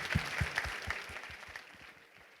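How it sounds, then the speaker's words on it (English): Audience applause after a climate debate, a modest spread of clapping that starts with a few sharp, close claps and thins out toward the end, fairly faint overall. "I would like to give a good round of applause for both sides"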